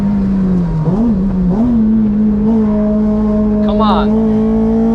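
Honda DC5 with a K24 engine lapping the Nürburgring, its loud steady engine drone holding a constant pitch close up with slight wavering as it handles corners, while a voice talks over it.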